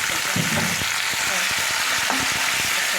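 Chicken frying with garlic in a pan on high heat, a steady loud sizzle with a few utensil knocks and stirring scrapes over three seconds, no talking.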